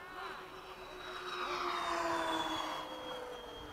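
An Eflite 80mm F/A-18D radio-controlled electric ducted-fan jet taxiing back across the field, its high whine steady and fairly close, sliding slowly downward in pitch as it rolls past.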